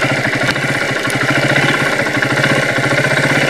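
A motorcycle engine idles on a deep, muddy road in Antipolo, giving a loud, close, continuous rumble with a steady pulsing throb and no speech.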